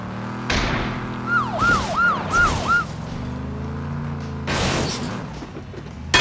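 A police patrol car siren in PUBG wails in four quick rising-and-falling sweeps, loud and close, over game background noise and rumbling engine sounds, with sharp bursts before and after.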